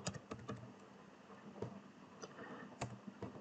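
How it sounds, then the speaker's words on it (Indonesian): Commands typed on a computer keyboard at a Windows command prompt while setting up a Laravel project: quiet, irregular key clicks in short bursts, close up, with no voices. "Kemudian kita ketikkan cd cd exam"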